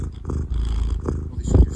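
A cat purrs close by, a low, rough, continuous rumble with slight rhythmic pulsing that lasts under two seconds and grows a little louder toward the end.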